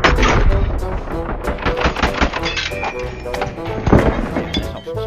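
Rapid video game gunfire crackles in dense bursts, loud and close, with sharp repeated shots packed together across the whole stretch and no clear speech.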